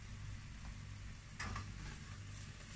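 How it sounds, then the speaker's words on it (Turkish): Corn flour roasting in a pan with tomato paste for fresh corn soup, a soft steady sizzle with a brief stir or scrape in the middle, faint and close with no voices. "Böyle mısır ununu da biraz kavurduktan sonra devam edeceğim."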